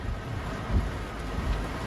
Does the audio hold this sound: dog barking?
no